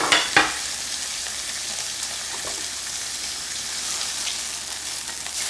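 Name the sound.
black-bone chicken pan-frying over high heat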